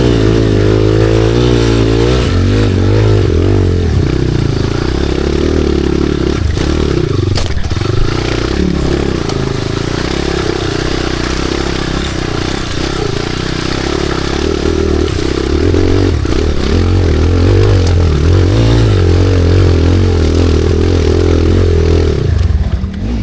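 A loud motorcycle engine labors continuously up a steep slope, rising and falling in pitch as it strains, with scraping and clattering underneath.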